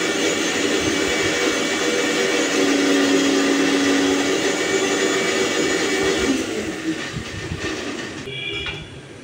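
A mixer grinder runs loud and continuous, grinding mustard seeds into paste for a vegetarian curry, a steady whining motor roar close by that thins and trails off near the end.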